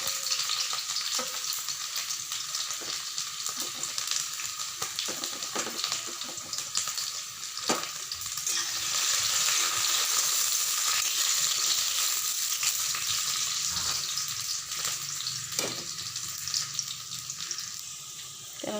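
Onion, green chillies and chopped garlic fry in a pan, a continuous close sizzle with scattered stirring scrapes and a swell of hissing partway through, no speech.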